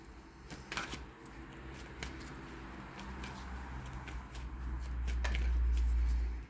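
Tarot cards are shuffled and drawn, giving soft, close riffling and light flicking taps over a faint room hum that swells toward the end.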